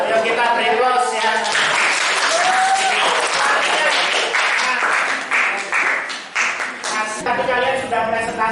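Classroom audience clapping after a student presentation, a steady burst of applause from a small group, close and loud, with voices speaking over and around it.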